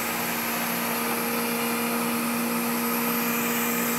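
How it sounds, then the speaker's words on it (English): Hydraulic pump and boom of a Terex XT Pro 60 forestry bucket truck unfolding the lower boom, a steady loud mechanical whine with a constant tonal hum and no pauses. "Unfolding our lower boom,"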